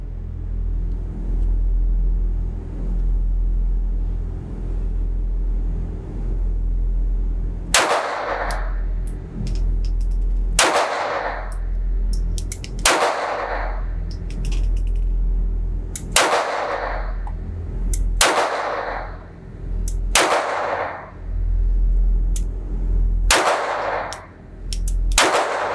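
Sharp gunshots from a Browning Black Label 1911 .22LR pistol crack one at a time at an outdoor range, about ten irregularly spaced reports over a low steady rumble, loud and close with no talking.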